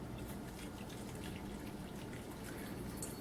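Goat milk poured from a container into a jar makes a soft, steady liquid trickle and splash, faint and continuous with no voices.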